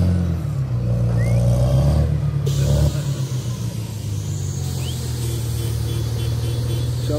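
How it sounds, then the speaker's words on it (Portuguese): Two trucks drive across a damaged stretch of the GO 060 highway at a collapsed culvert, steady engine rumble and revving nearby with a shift in pitch as they pass. "Atravessando mais dois caminhões aí para reforçar o time."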